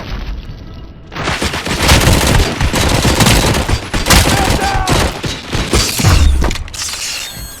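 Sustained rapid gunfire in RoboCop: Rogue City, a loud, dense barrage of automatic shots and mechanical clatter that starts abruptly after a quiet moment and keeps firing nearly throughout, with some talk mixed in.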